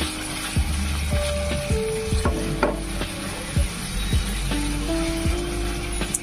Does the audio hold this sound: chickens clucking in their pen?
no